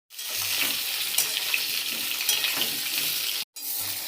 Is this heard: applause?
no